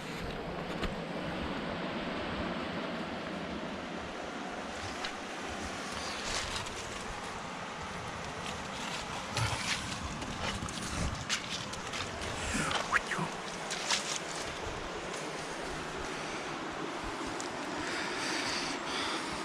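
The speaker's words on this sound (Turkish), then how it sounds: "Bir de böyle bir su akıyor öyle hızlı hızlı." A fast-flowing swollen creek rushes nearby as a broad, steady wash of water noise, roughened by wind buffeting on the microphone, with no clear talking over it.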